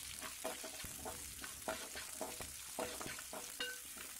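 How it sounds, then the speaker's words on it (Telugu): Green chillies, curry leaves and dry red chilli pieces fry in a pan, a quiet continuous sizzle broken by repeated soft stirring scrapes at a fairly regular pace. "ఇవన్నీ కొద్దిగా ఫ్రై అయిన తర్వాత 2 ఎండుమిర్చి ముక్కలు కూడా వేసుకొని ఫ్రై చేసుకోవాలి"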